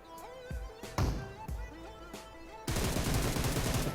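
Gunfire in the PUBG Mobile video game on the Erangel map includes sharp single shots and bursts, with a shotgun in the firefight, followed by a loud sustained barrage of rapid fire.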